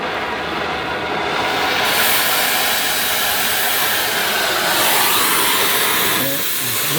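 A torch roars steadily while heating a SkidTruck QA1 truck frame for C-notching. The loud, close, continuous rushing hiss holds for the whole stretch with little change in level.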